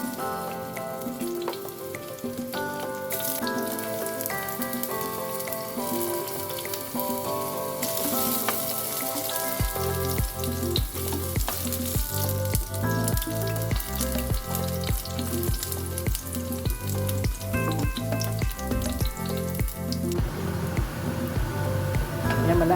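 Ripe saba bananas fry in hot oil in a pan, giving a steady, close sizzle that grows louder and denser partway through and continues without a break.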